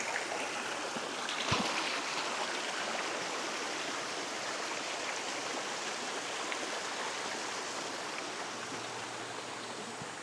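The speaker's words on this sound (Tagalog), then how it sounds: "Ang ganda ng daloy ng tubig dito." A river pours over a small waterfall at Pasong Baliwag in Magallanes, Cavite, making a dense, steady rushing roar that fills the whole stretch without pause, loud and close, with one brief knock early on.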